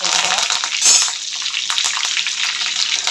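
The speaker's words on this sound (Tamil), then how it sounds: "கடுகு நல்லா பொரிஞ்சிச்சு." Mustard seeds splutter in hot oil for a screwfish curry, a steady dense crackle and hiss with a sharp pop partway through.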